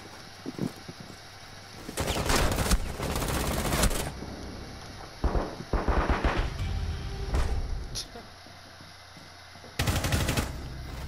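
Video game gunfire from a shooter match: bursts of rapid automatic fire in several clusters, loud and close, separated by short quieter gaps with faint background game sound.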